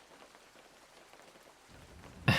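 Steady rain falling, a soft continuous patter of drops on a surface, swelling into a louder, fuller burst near the end with no voices present.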